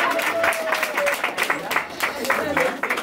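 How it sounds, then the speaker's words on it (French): Audience applause at an engagement party, a steady wash of clapping sustained through the whole stretch with voices mixed in. "applaudissez pour eux"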